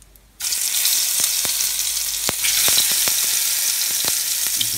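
Potatoes drop into hot oil in a pan and a loud, steady sizzle starts just after a quiet moment. The close frying hiss carries on with scattered sharp crackles and pops throughout.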